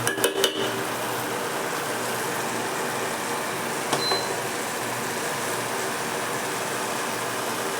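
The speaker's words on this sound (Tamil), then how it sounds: "மீடியமான ஃப்ளேம் வச்சு வதக்கிட்டு இருக்கோம்" Tomato mixture for a banana flower curry sautéing in a pan over a medium flame: a few sharp clinks of a utensil against the pan at the start and a single clink midway, over a steady, even sizzle and hum.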